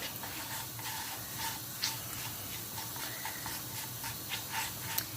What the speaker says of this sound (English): just going to fry out the spices